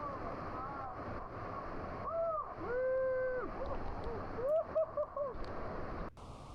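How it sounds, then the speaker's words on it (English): Steady broadband rush of Beaver Falls at Havasupai, heard from behind the falling water, with voices talking over the roar. "We're behind the waterfall."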